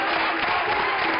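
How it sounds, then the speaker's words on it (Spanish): Audience applause at a live show in Spain, a dense steady wash of many hands clapping throughout, fairly loud and alone without speech. "¡Un aplauso para Jesús!"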